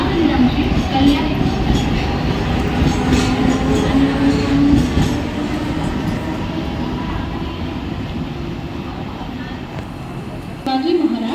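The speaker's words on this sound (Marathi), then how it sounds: "शिवाजी महाराज टर्मिनस जाने वाली धीमी लोकल होने के समय में प्लेटफॉर्म क्रमांक 2 पर आ रही है।" A slow local commuter train pulls into a station platform, its loud rumble and clatter of wheels dominating before easing off. A public-address announcement plays over it.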